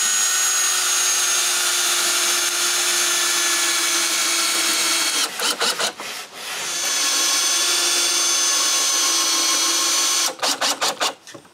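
A power drill drives screws into the wooden legs of a lounge chair, a loud sustained whine that stops with stuttering pulses twice as each screw seats.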